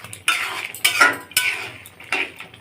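A spoon scrapes and clinks against a pot while ground roasted spices are stirred into a curry, about five distinct sharp strokes in an uneven rhythm, close and clear with no talking.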